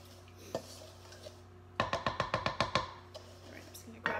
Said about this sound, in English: I'm going to just mix the salt and the oil together.